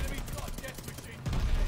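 Rapid gunfire and explosions from the Call of Duty Vanguard Shipment map pound on throughout, dense and loud, with a heavier burst of blasts near the end.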